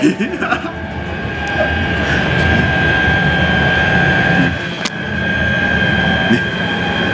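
A metro train rides along with a steady, loud rolling rumble and a high whine. A brief dip and clatter interrupt the rumble near the end.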